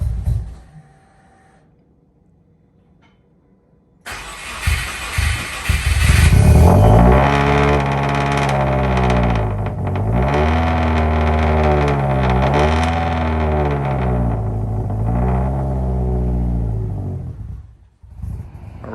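Car engine cranking and firing up after a quiet pause, then a loud, close exhaust rumble rising and falling through repeated revs as it pulls away, before cutting off abruptly near the end.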